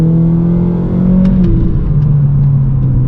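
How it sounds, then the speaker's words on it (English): A 2019 Honda Civic Sport with a K20C2 engine and its muffler removed pulls hard through first gear, a loud steady engine roar heard from inside the cabin that dips briefly at a shift before droning on. "So here's a first gear pull for you guys."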